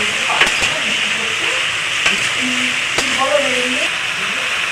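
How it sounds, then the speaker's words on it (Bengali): Tomatoes cut lengthwise being stirred with spices in a frying pan for a vegetable labra curry, a steady sizzle with occasional scraping stirs and soft clinks, close by. "টমেটোটা ভালো করে নেড়ে চেড়ে মিশিয়ে নেবো মশলাটা দিয়ে"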